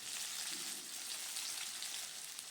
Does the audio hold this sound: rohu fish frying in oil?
yes